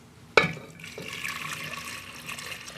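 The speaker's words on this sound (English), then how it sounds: "And 8 cups of water." Eight cups of water poured into a soup pot for minestrone with beans and a bay leaf, a steady close splashing and filling that begins abruptly with a sharp onset and continues evenly to the end, no talk.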